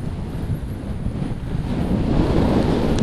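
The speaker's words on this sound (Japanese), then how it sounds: "これ風の音ですね。" Steady, gusty wind buffets a microphone while cycling into a headwind along the calm shore of Mutsu Bay near Wakinosawa on the Shimokita Peninsula, roaring continuously and growing slightly stronger toward the end, with no talk.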